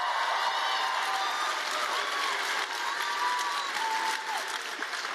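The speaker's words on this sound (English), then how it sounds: "How about a round of applause for you for getting out here on a Tuesday night?" Applause and cheering from a crowd at an evening live political tour event, loud and steady throughout with a few voices whooping over the clapping.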